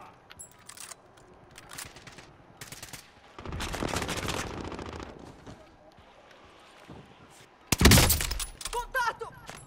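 Bursts of automatic gunfire from a Call of Duty: Modern Warfare match, loud with a sharp, heavy burst near the end, mixed with game sounds and a player talking over it.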